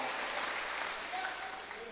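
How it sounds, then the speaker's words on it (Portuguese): A church congregation applauds steadily throughout, a dense even wash of clapping with faint voices mixed in. "Pode aplaudir ao Senhor."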